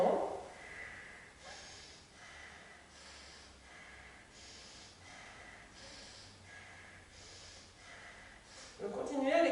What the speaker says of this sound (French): on va faire la respiration alternée avec le soufflet